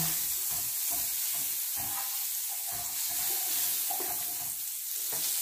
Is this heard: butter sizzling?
yes